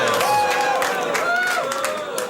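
A late-night talk show studio audience cheers and applauds, a broad continuous crowd roar with scattered whoops and shouts throughout, fairly loud and steady.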